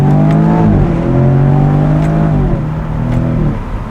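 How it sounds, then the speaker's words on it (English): A 2021 Jaguar F-Type with about 300 horsepower accelerating hard, its engine note climbing loudly through the revs, then easing off and rising again near the end, heard from inside the car with no talk. "now we'll get a little acceleration"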